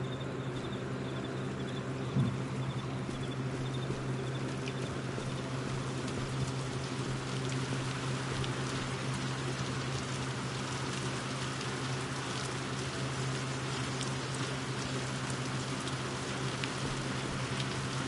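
Steady rain in the Viewfinder video game, a soft continuous patter with a low constant hum beneath it, even and unbroken throughout.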